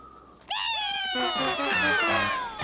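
A cartoon cat lets out a loud, drawn-out meow that wavers in pitch. A second animated cry overlaps it with stepped, musical tones.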